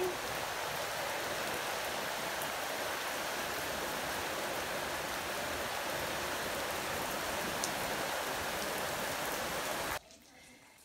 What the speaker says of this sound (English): with the rain comes the humidity, of course. So yeah, enjoy the rain.